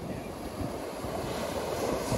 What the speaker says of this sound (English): It's a little windy out here, kids,